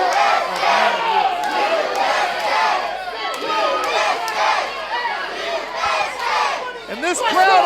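Wrestling arena crowd cheering and shouting throughout a televised regional match, a dense continuous roar of many voices with scattered yells rising above it, loud and steady.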